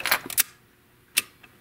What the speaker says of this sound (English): 1/500th of a second coming up.